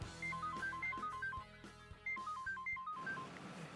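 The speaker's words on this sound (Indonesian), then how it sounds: "Bentar ya, nyokap gue telepon." A telephone rings with a bright electronic ringtone melody, two repeated bursts of quick beeping notes separated by a short pause, heard indoors at moderate volume with no talking.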